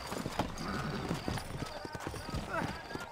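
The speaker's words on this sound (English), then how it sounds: "You ain't gonna find sturdier horses than these in all of New Austin." Horse hooves clip-clop in Red Dead Redemption, set in New Austin, a busy run of close, uneven hoofbeats with a brief whinny, under a voice talking.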